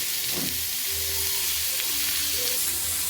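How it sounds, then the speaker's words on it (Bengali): Vegetables sizzle steadily in hot oil seasoned with panch phoron for an okra and tomato sour dish, a continuous close crackle with faint stirring and no voices. "তাতে একটু তেল দিয়ে পাঁচ ফোড়ন দিয়ে সবজিগুলোকে দিয়েছি"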